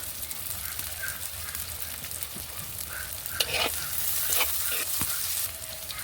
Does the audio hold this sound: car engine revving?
no